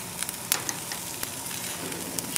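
Shallots sizzle on a grill alongside vegetables such as asparagus, a steady crackling hiss with scattered small pops and clicks, close and moderately quiet with no talking.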